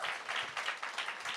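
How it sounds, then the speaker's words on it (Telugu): An audience at a film celebration event applauds, steady close clapping in rhythmic bursts over a short stretch, with no speech over it. "అందరికీ ఒకసారి క్లాప్స్ కొట్టండి."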